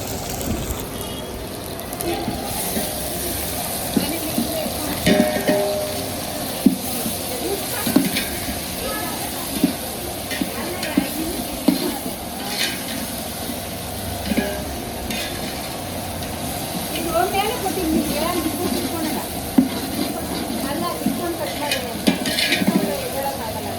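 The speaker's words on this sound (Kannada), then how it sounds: "ಶುಂಠಿಗೆ ಬೆಳ್ಳುಳ್ಳಿ ಪೇಸ್ಟ್ ಹಾಕ್ತಿದ್ದೀರಿ" Ginger garlic paste sizzling and being stirred in a pan for ghee rice, a steady frying hiss with scraping stirs and occasional clinks throughout, heard close and moderate in level.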